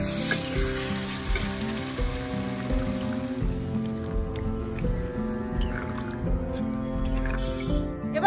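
Water poured into a pot of frying potatoes and mutton bursts into loud, steady sizzling, with bubbling and dripping underneath and the hiss easing somewhat toward the end. A faint tonal background hum runs beneath it.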